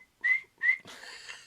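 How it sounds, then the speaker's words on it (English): Two short shrill whistle blasts from the warning whistle of a Mattel Astro Blast toy rocket launcher, followed by a breathy airy hiss, close and clear. "As you do the countdown, the whistle goes"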